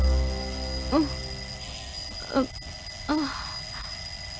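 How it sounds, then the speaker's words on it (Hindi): An alarm rings in short bursts, three separate ringing chirps spaced about a second and a half apart over a low steady hum, fairly close, with no one talking. "अलार्म बज रहा है।"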